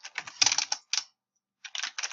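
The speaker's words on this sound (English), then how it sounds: "now I'm just typing up notes showing you how you can develop this" Bursts of close computer keyboard typing as notes are written, quick irregular keystrokes in clusters with a brief pause midway, no voices.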